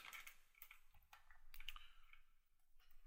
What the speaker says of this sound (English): ooh, going crazy, typing random things